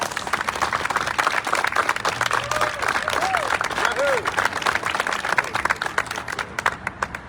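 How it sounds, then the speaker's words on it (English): Applause from an audience at a groundbreaking ceremony for an urban food hub expansion, a dense, steady wash of many hands clapping that thins into scattered claps at the end, with faint voices and whoops mixed in. "I hope you'll join me in giving our staff a huge round of applause"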